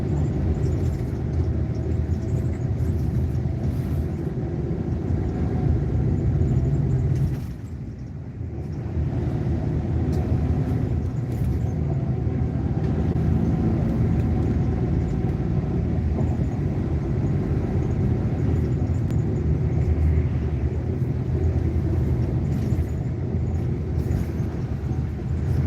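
A steady deep rumble from inside a vehicle driving along an uneven, wavy road, continuous and heavy, with a brief dip partway through and no talking.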